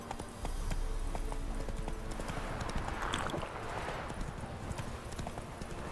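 Roach, the horse from The Witcher 3, gallops with a steady, loud clip-clop of hooves that runs the whole stretch, with game ambience and a touch of voice beneath.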